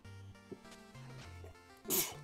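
One sharp, close sneeze bursts out near the end, rising over quiet, steady background music from a Shovel Knight card game.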